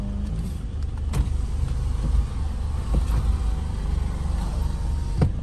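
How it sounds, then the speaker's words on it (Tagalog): A tricycle passes on the road, heard from inside a moving car as a steady engine rumble with a few brief clunks and knocks, moderately loud, with no speech. "may dumaan na tricycle."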